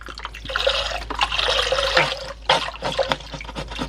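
Vegetable broth poured from a whole container into a pot, a steady liquid splash and trickle with uneven surges, close and fairly loud, with no talking.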